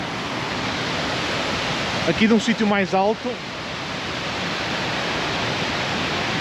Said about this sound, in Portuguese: Aqui temos uma vista mais aproximada da cascata